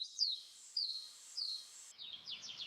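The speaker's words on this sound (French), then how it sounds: "Des oiseaux chantent." Small birds sing near a fountain on a sunny walk: a series of thin, high, quick chirps repeating every half second or so, faint and somewhat distant, then a short run of rapid trills.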